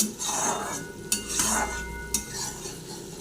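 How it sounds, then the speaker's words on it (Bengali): Fish coated in chili spice paste sizzles in hot oil while a utensil stirs and scrapes the pan, with steady frying hiss and a couple of sharp clinks. "এই যে মাছগুলো মশলাটা বেশ নাড়াচাড়া দিয়ে তেল ছাড়া ছাড়া হয়ে গেছে"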